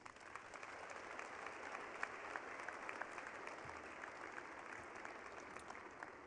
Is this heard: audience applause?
yes